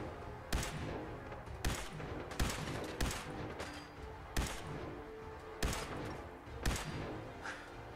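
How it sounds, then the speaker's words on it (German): Gunshots from Fallout 4, fired while fighting super mutants: about nine sharp, separate reports, spaced irregularly roughly a second apart, each a sudden burst standing out over a steady background rumble. "Ich darf hier nicht so viele Schüsse verteilen"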